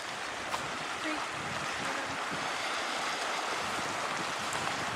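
A small river runs beside the sites of an RV park in Pagosa Springs, Colorado, running low in a dry year, giving a steady, broad rushing wash of moving water, close and even throughout with no breaks.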